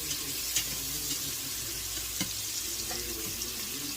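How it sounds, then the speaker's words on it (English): Vegetables for grilled corn chowder sautéing in a pan over turned-down heat, a soft steady sizzle with faint occasional stirring clicks, close and even. "Let's saute that for about a minute."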